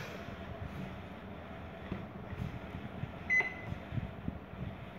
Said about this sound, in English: microwave oven.